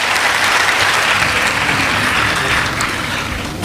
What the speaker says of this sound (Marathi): सगळ्यांनी जिल्हाधिकारी महोदयांचं आपण टाळ्या वाजवून स्वागत करूया